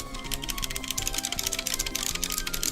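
Rapid keyboard typing, a fast run of loud clicky keystrokes close by, with no talking.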